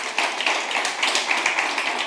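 Steady applause from a crowd, a dense wash of clapping with no voices and no break.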